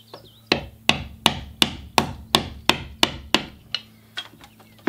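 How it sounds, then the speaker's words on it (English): A chisel being struck repeatedly with a mallet while cleaning knots out of cedar wood: about a dozen sharp, evenly spaced knocks, close and loud, with no talking. "let's chisel that out and get that all done"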